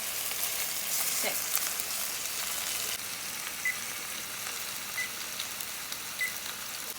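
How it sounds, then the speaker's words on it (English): Beef for Italian beef sizzling in a hot pan, a soft steady fry hiss with faint crackles, fairly quiet, with a brief spoken word over it. "Listen to that sizzle."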